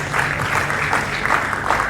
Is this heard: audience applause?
yes